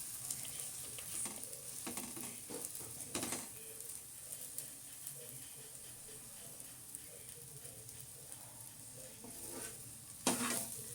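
A bread omelette frying in a pan over a lowered stove flame gives a soft, steady sizzle, with occasional scrapes and clatter of a spatula turning it, including a sharper knock near the end.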